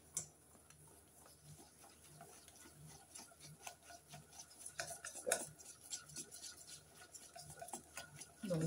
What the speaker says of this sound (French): À ça, je vais rajouter 20 g de maïzena que je vais bien mélanger.